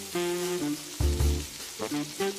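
Ground keluak, garlic, shallots and fried shrimp paste sauté in a pan with a steady, close sizzle that swells briefly midway, while a tonal melody plays over it.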